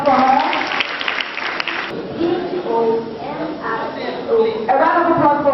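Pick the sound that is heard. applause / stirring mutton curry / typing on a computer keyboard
applause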